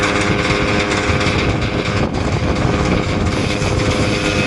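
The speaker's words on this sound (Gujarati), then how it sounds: "અહીંયા હાલી રહી છે ચાપ કટર" A chaff cutter runs on a farm, giving a loud, steady mechanical drone with a continuous engine-like hum and broadband whir throughout, close to the listener with no talking.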